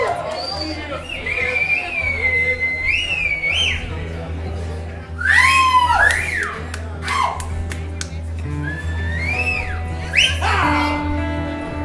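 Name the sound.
crowd whistling and cheering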